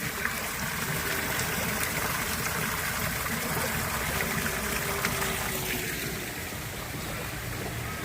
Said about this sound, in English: There you go, nice waterfall.